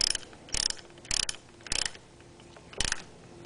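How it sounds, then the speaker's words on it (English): Ratchet tightening a battery terminal bolt on a 1995 Honda Accord, heard as four or five short bursts of rapid metallic clicking with quiet pauses between, close and fairly soft. "screw the bolt all the way back down"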